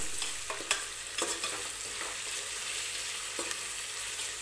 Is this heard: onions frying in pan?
yes